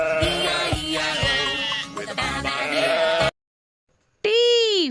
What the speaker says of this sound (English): S for sheep.